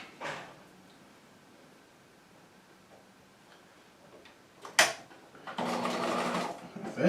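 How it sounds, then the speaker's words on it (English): A sewing machine stitches along the curved seam of a set-in pocket, running in one steady burst of about a second and a half near the end after a mostly quiet stretch with small handling sounds. "I'm going to stitch right along this curve."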